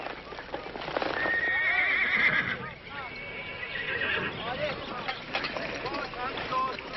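A horse whinnies loudly and shrilly during a riding lesson in a western ranch scene, with hooves clopping and scuffing underneath and more neighs and snorts following, while people talk and shout in the background.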